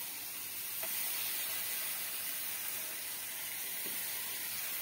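Ripe bananas sizzle over a low flame in a pan of caramel being made for pancakes, giving a steady, close, bright hiss that goes on unbroken with no speech.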